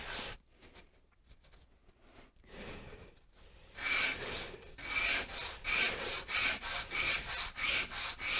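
Sandpaper rubbed over bent wood pieces, starting with a few soft scuffs and then settling into a loud, close, rhythmic back-and-forth scratching of about a dozen even strokes.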